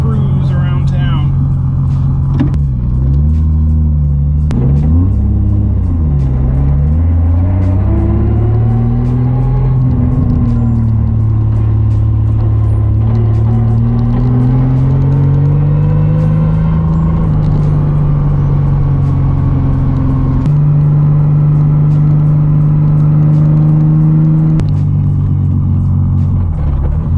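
A Nissan Z drift car cruising around town, its engine droning loudly and continuously from close by, with the pitch rising and falling through gear changes and steady acceleration across nearly half a minute.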